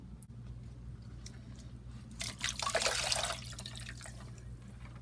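A skein of yarn drops into a pot of dye water, making a short, soft splash and slosh that lasts about a second over a steady low background hum.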